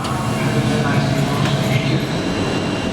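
A train at a station in Slovenia gives a continuous heavy rumble with faint rattling, close and steady for a few seconds.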